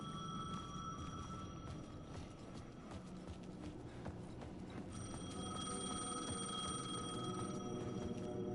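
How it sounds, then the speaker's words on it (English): A payphone ringing in the Alan Wake 2 video game: repeated electronic bell-like rings with steady tonal pulses, moderately near, set against faint footsteps and ambient game sound. "The payphone was ringing."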